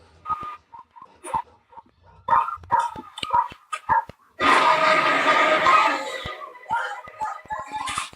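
Barking from a dog in the 2018 action film Rampage, a run of short sharp barks and yips in bursts, broken by a loud noisy roar of film action in the middle, with faint voices around it.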